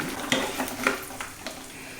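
Peanuts and dried red chilies frying in oil over a low flame alongside coriander seeds, a soft continuous sizzle with occasional light stirring taps, close and fairly quiet, no voices.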